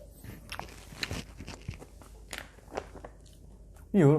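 A few crisp, crunchy bites on a crispy kimchi pancake, with soft chewing between them and a voice speaking near the end.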